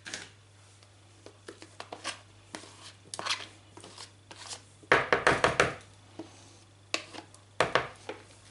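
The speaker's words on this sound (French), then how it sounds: "Donc on coupe grossièrement." A knife chops roughly through cheese on a board, quick irregular thunks and taps, some in tight bursts, close and fairly quiet with no talking.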